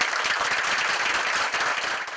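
Applause breaks out as a community college district governing board passes a motion 4-3 in a public meeting, a dense, steady wash of many hands clapping at close range, with no voices standing out.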